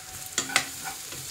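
Turmeric, coriander, cumin and Kashmiri chilli powders are stirred and fried in a pan for cabbage manchurian, a soft steady sizzle broken by a couple of scraping stirs.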